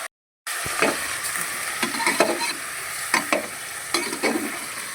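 Chicken for a gravy sautéing and being stirred in a pan, with a steady close sizzle and repeated scraping strokes of a spoon roughly every second.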